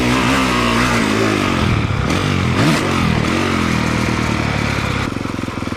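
A motocross motorcycle engine revving hard in third gear on a jump track: a loud, close, continuous roar that rises and dips in pitch, then settles into a rougher, pulsing drone near the end.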